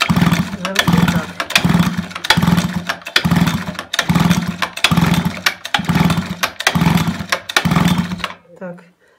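A petrol grass trimmer that will not start, its pull-cord starter yanked about eight times in a steady rhythm, each pull giving a brief sputtering engine burst, close and loud, before everything drops to silence.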